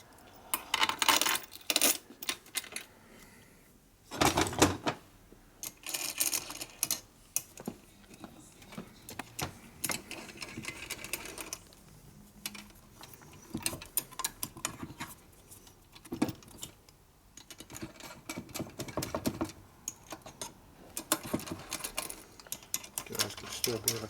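Small and large metal washers and bolts from a 1977 Harley-Davidson XLCR 1000cc ironhead engine being sorted by hand, giving close, repeated clinks and taps in irregular bursts throughout.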